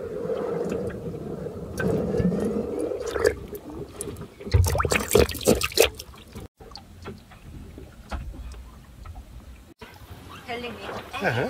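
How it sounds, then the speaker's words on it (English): Water gurgles and trickles close by as it comes in through an open drain plug of a MacGregor 26 sailboat on a bay, with splashy bursts in the middle, while people talk over it. "I can hear the water coming in."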